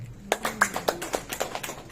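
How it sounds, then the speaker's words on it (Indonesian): Audience at a health talk clapping in a sparse, uneven run of distinct hand claps, about a dozen sharp slaps fairly close, with a voice briefly underneath at the start. "Boleh tepuk tangan."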